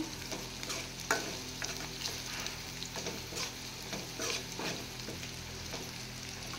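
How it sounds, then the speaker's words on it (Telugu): Paneer vadiyalu fry in a pan with a steady, dense sizzle and crackle, punctuated by occasional louder pops and stirring scrapes, close and continuous with no voices. "ఇది కొంచెం వేగేదాకా ఒక 5 నిమిషాలు బాగా వేగనివ్వాలి"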